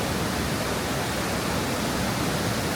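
Strong rushing water roars continuously at a scenic spot in China, a loud, dense, unbroken wash of noise like a nearby waterfall or torrent, with no voices over it.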